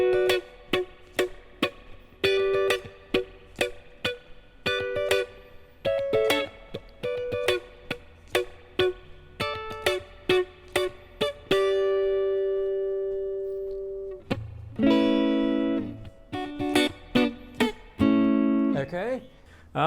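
A guitar plays the chord progression of a song, with B on the bass, in a consistent strummed rhythm of clean repeated chords and occasional sustained ringing notes.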